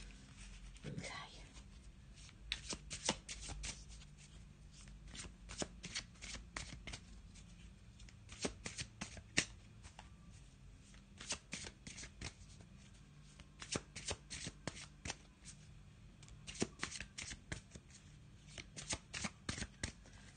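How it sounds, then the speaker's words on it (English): A Black and White Faulkner tarot deck is shuffled by hand, a long run of crisp riffling bursts and soft card slaps in irregular clusters, close and fairly quiet, with a voice speaking now and then. "we're just going to have a little shuffle"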